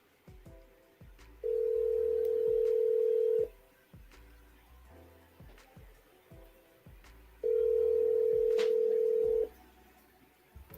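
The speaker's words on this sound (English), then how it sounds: "Oh, it's ringing now." The ringback tone of an outgoing phone call sounds twice, each a steady, loud tone of about two seconds separated by a long pause, with low background clatter in between.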